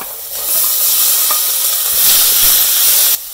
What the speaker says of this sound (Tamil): கருப்பு உளுந்து நம்ம சேர்க்குறோம்